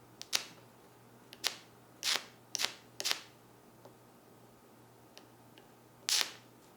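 Several sharp, crackling snaps from a wire lead sparking as it is bumped against the terminal of a battery pack wired from 9-volt batteries, arriving in irregular bursts with quiet gaps between them.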